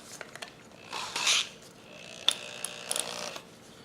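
Vise clamp being cranked tight on a piece of wood in a workshop, giving a short run of close, faint ratcheting and mechanical clicks and creaks.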